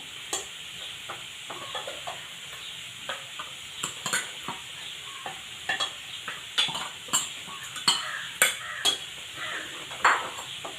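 Sambar powder is stirred into boiling sambar, a spoon scraping and tapping the pot in a quickening, uneven rhythm over a soft bubbling hiss, heard up close with no voices.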